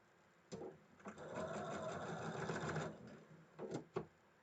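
A sewing machine stitches quilt block pieces together in one steady, close-up whirring run of about two seconds, with a few clicks just before and after.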